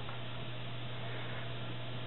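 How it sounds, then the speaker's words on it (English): A Buffalo LinkStation Duo Pro NAS cooling fan runs in a quiet room, giving a faint, steady whir with a low constant hum and no other sounds. "I'm not sure if you can hear the fan noise right now. It's definitely audible."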